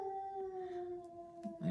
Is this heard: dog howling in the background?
yes